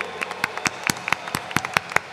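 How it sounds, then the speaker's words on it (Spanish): A Pentecostal congregation at a Pentecost welcome gathering claps for Jesus, a thin, scattered run of separate claps at an uneven rhythm, fairly close and moderately loud. "Un aplauso para Jesús,"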